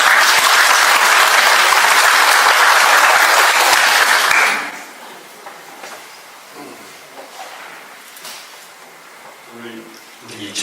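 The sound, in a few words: applause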